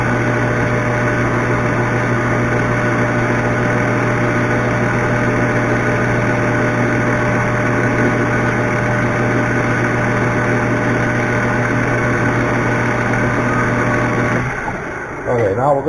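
An engine idles at a steady, loud drone to get the oil circulating, running alone for about fourteen seconds before cutting off near the end.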